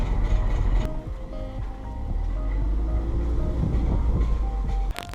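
A 2014 Scion tC with a faulty right brake makes a rumbling, rhythmic rolling noise like a train while driving, steady low road roar with scraping overtones and a sharp knock near the end.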